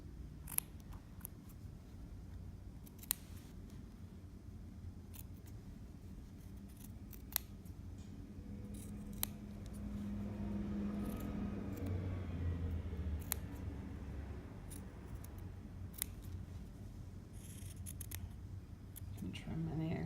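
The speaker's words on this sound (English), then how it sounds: "We'll try that again with the sharp shears." Sharp shears snipping fabric while making a trapper's hat: a series of scattered crisp snips, close up, over a faint low background hum.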